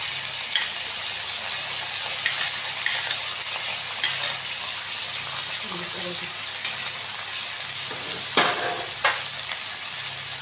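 Potatoes and onions fry steadily in a pan for homemade paneer in a Bengali-style dish, a constant broadband sizzle with faint stirring scrapes and a couple of brief louder bursts near the end.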